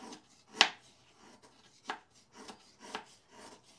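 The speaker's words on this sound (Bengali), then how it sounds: "এই যে আমার সুমন বাবাজি আমাকে গুড় কুচিয়ে দিচ্ছে, একদম মিহিন করে কুচাচ্ছে" Jaggery being finely chopped with a knife on a board, a series of sharp, close cutting strikes in a loose irregular rhythm with quieter scraping between them, no talk.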